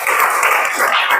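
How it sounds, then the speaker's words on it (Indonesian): A group of students applauds together in a classroom, a dense, steady wash of clapping hands that fills the whole moment without pause. "Tepuk tangan dulu dong."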